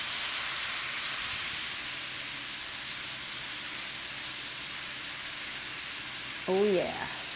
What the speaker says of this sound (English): So now I'll place my mushrooms in my frying pan.